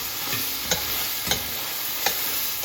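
A steady, loud sizzle of meat browning in a pan for spaghetti meat sauce, with a few sharp scrapes of stirring breaking through at intervals; no voices.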